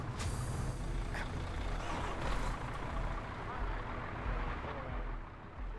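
An armored money truck in Arma 3 releases sharp hisses of air brakes over a steady engine rumble. The vehicle sounds close, with a couple of bursts of venting air near the start and middle.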